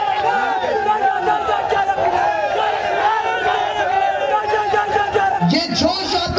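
Crowd at a political campaign rally in Gudh raising an energetic slogan cry in unison, dense and loud throughout, with a sharp whistle-like burst near the end.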